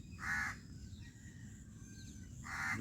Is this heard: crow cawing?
yes